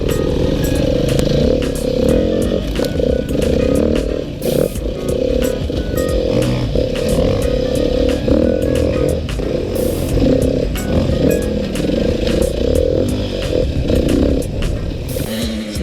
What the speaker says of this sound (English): this long stroke engine just might be the perfect engine capacity for many